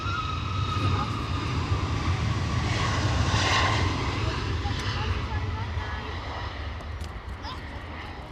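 Airliner engine roar at Edinburgh Airport, with KLM jets moving about, a steady loud rumble that swells midway and slowly fades, while a person talks over it.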